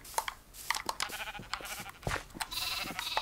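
Sheep in the Minecraft video game bleat several times in quick succession, including a baby sheep, the short nasal cries close and clear over faint game sounds.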